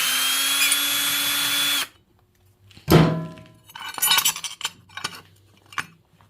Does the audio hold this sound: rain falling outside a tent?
no